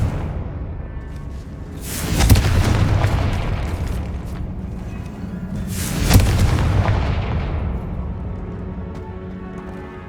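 Two booming explosive blasts from the Confringo spell in the Hogwarts Legacy video game, about four seconds apart, each a sharp loud burst that rumbles and fades.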